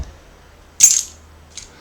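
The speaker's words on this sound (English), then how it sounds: "The fall of the keys is determined by the mass and the gravitational attraction of the Earth." A set of keys dropped onto a surface, one sharp metallic jingle followed by a fainter short clink, alone in a quiet room.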